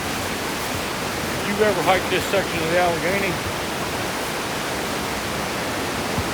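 Swollen, flooded river in the Allegheny backcountry of West Virginia after heavy flooding, a constant broadband roar of rushing water filling the scene, with someone speaking briefly over it.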